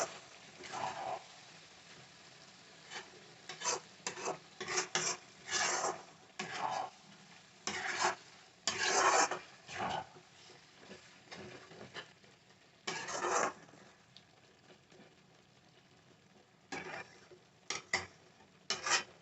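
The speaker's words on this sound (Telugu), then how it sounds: "స్టవ్ని బాగా సిమ్ మీద పెట్టుకొని ఈ మసాలా అంతా కలపాలి." Masala for prawn curry being stirred in a pan over a low flame, with repeated scraping strokes of a spoon against metal and a faint sizzle beneath, close and unhurried, with no one talking.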